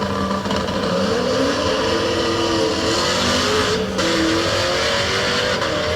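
A Corvette race car engine roars loud and close, holding a steady high drone with shifting pitch and a brief dip near the middle, heard alone.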